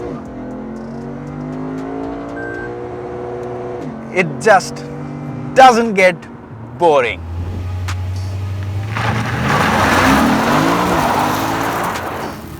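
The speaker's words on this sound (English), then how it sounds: "It's one of the few cars that comes with a large naturally aspirated motor, and trust me, you can't really have enough of its sound." A Lexus RC F with a large naturally aspirated engine revs hard in a rising, sustained roar near the end, after someone talks with brief exhaust blips between his words.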